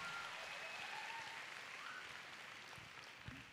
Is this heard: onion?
no